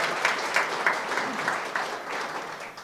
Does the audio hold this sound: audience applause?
yes